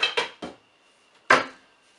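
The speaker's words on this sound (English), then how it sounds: "I will find the lid so that the heat stays in" Metal pot lid clattering onto a soup pot, three quick clanks in a row, then a pause and one louder, ringing clank, close by in a quiet kitchen.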